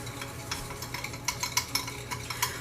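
Whipped coffee being whisked by hand in a bowl, a made-with-chocolate-milk version, giving a steady run of soft, rapid scraping strokes with brighter clinks now and then, close and alone.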